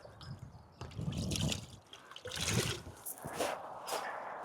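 Water splashing and trickling over a car during a rinseless wash, a steady close wet hiss in uneven surges.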